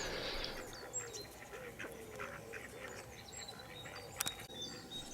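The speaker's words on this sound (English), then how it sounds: "Now I've got 3 mallard ducks sat on the shore of the lake." Mallard ducks by a lake quack and honk softly at a distance over faint outdoor ambience, with scattered calls spread across the moment.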